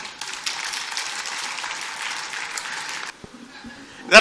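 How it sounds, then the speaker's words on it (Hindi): Hearty audience applause at a kavi sammelan poetry gathering in Kota honoring the poet Munawwar Rana, a dense, loud wash of clapping that cuts off abruptly near the end, followed by brief quieter sounds and a sudden burst. "जरा जोरदार तालियां एक बार बजा दीजिए।"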